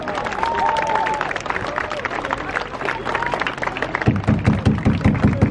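Crowd clapping and murmuring fill the room at a fire station, with a few tones over the noise and a burst of sharper, faster claps toward the end.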